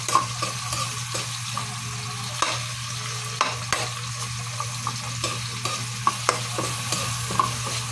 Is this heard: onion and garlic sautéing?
yes